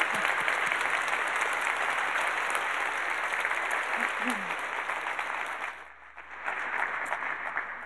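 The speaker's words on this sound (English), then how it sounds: "So how about a round of applause for" Applause from a conference audience at a retail leadership event, steady massed clapping that fills most of the stretch, briefly thins and dips, then swells again.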